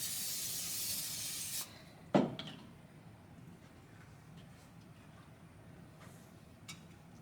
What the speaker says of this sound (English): we'll spray it first so it doesn't stick